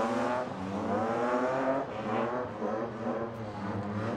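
A 2.8-litre, 190 bhp BMW 328 Compact drift car is driven hard around Rockingham during drift qualifying, its engine roaring and revving continuously near the microphone with fluctuating pitch and tyre noise throughout.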